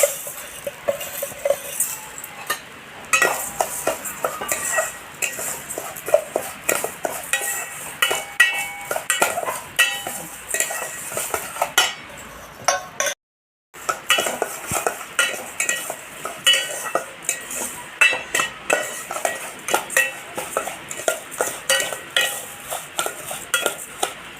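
Gobindobhog rice is fried lightly in ghee in a pot, stirred steadily with a utensil that scrapes and clinks against the metal, with a faint sizzle; one brief pause interrupts the continuous stirring.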